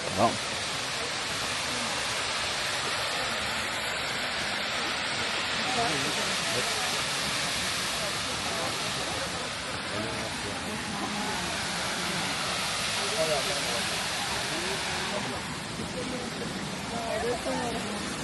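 A waterfall at Pictured Rocks, a steady broadband roar of rushing water, continuous and fairly loud for the whole stretch, with faint voices mixed in at times.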